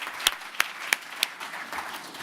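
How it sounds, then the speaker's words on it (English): Conference audience at an innovation management summit claps at the close of a session: a handful of sharp, separate claps stand out near the microphone over a faint, thin patter of scattered applause, with no talking. "Give yourselves a round of applause."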